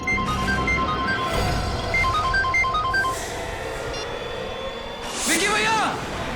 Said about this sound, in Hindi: ये रिंगटोन तो बढ़ती ही जा रही है।